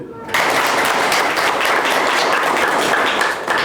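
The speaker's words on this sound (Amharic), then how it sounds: "አንዴ ለራሳችሁ አጨብጭቡ።" A group of children with cancer clapping together at a hospital Eid al-Adha celebration, a sustained burst of dense applause that starts suddenly and holds steady and loud for several seconds.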